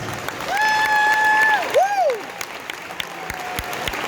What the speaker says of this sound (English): let's give a big round of applause for our band directors